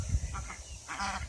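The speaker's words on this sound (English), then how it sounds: "Here come the ducks." Ducks quack in a few short honking bursts at a moderate distance, faint against outdoor background noise with no talking.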